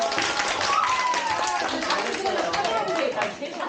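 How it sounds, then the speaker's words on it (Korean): A classroom of elementary school students claps together to open a debate lesson, a dense burst of many hands close by, tapering off near the end, with voices talking over it. "자, 모두 박수로 토론 시작해주세요."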